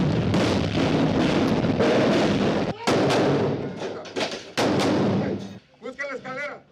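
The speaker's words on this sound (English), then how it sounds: "They met fierce resistance and responded with heavy fire and grenades." Heavy gunfire and explosions from a marine raid on a drug cartel property in Mexico, with dense sustained volleys and loud booming blasts. Brief pauses break the firing, and faint voices follow near the end.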